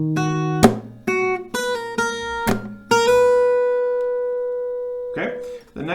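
An acoustic guitar plays the opening riff of a song, with plucked notes and hammer-ons ringing out one after another, a longer sustained note, then a strummed chord near the end.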